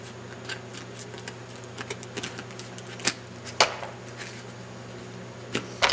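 Excess foam being trimmed off a homemade foam airplane part, giving quiet, irregular clicks and snips with a few sharper cuts standing out near the end over a faint steady hum.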